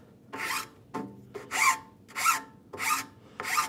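A file and rasp work a wooden saw handle in six distinct back-and-forth rasping strokes, each a short, bright scrape with brief pauses between, close and clear with no talking.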